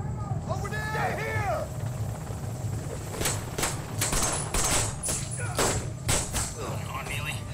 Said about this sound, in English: Don't let the helicopter take off